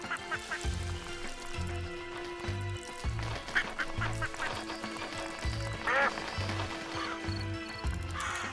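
Many ducks quack in the farming game Plentiful, a crowd of repeated quacks and honks over a steady low rhythmic music loop, moderately loud with no talking.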